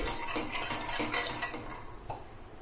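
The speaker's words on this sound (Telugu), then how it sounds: "1 టీ స్పూన్ దాకా పల్లీలను యాడ్ చేసుకుంటున్నాను." A spoon stirs peanuts in a pan over a low flame, giving a run of close scraping and clinking strokes with a faint sizzle underneath and no voices.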